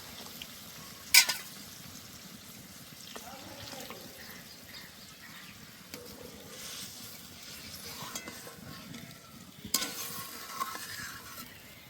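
Hot water hits fried spice paste in a pan for Bengali egg curry, with a sharp burst of sizzling right at the start and another near the end over a steady low bubbling hiss.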